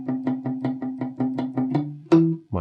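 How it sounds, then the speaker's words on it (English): Rockabilly guitar phrase played with the right hand muting the strings, a steady run of short, damped chugging plucks followed by a brighter ringing final note, close and unaccompanied. "You can also mute the strings with your right hand, so it sounds like this"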